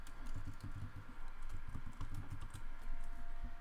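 Steady, rapid clatter of keys on a computer keyboard, continuous and fairly quiet throughout.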